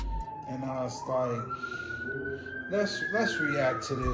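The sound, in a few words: siren passing outside in Las Vegas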